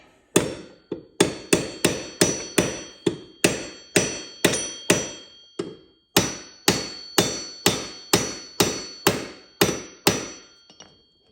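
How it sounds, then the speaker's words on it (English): A claw hammer striking a metal brake part on a Coleman 125EX rear brake, about twenty sharp ringing blows in a steady rhythm with a brief pause midway, close and loud. "We'll just get the old claw hammer out."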